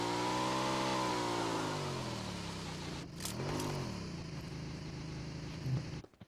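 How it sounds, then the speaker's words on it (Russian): A jet ski engine in PUBG Mobile revs and whines, pitch rising and falling, then fades out before a brief mechanical clunk at the end. "Гидроскутер."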